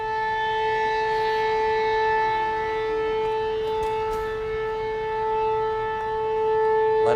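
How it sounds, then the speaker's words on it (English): Outdoor civil defense warning sirens sounding ahead of a derecho storm, a steady wailing drone with strong sustained tones that hold throughout and swell slightly, heard from a distance with no talk. "Let's listen to the sirens for just a second."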